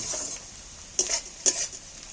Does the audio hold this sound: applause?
no